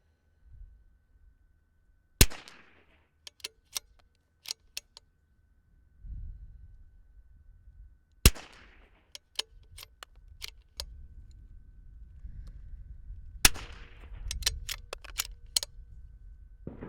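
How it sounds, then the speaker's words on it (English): Rimfire rounds fired from a centerfire rifle converted to rimfire while zeroing, three sharp isolated cracks spaced several seconds apart, each followed by clicks and rattles of handling between shots. "All right, Rebecca, let's zero your rifle."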